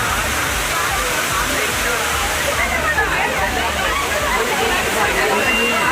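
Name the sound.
waterfall in sudden flood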